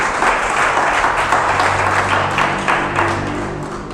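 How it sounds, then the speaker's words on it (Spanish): A church congregation at a Sunday service applauds together, loud close clapping that fades slightly toward the end, with a low hum beneath. "aplaudamos al Señor"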